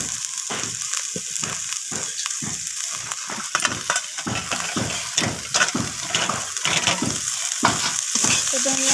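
Rohu fish curry with tomato being stirred after coriander leaves go in, a dense wet sizzle broken by rapid repeated scraping strokes of a spatula in the pan, fairly close, no talking.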